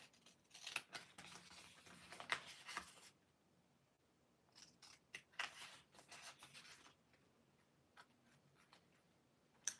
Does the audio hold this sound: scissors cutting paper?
yes